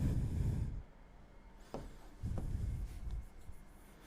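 Pen or pencil scratching across paper while working through a conic section maths problem, a few quiet strokes and scrapes with a low rumble early on, no talk over it.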